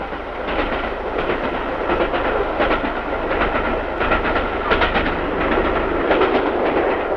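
The Elizabethan Express steam-era passenger train runs fast on the rails with steady clickety-clack of wheels over rail joints and a constant rumble, heard continuously from close by.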